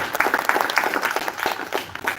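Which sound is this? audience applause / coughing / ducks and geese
audience applause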